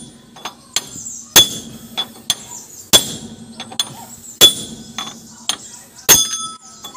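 Sharp metallic hammer blows on a wheel bearing of a FAW six-wheeler truck's front spindle ring out, four heavy strikes roughly every second and a half, with lighter taps between them.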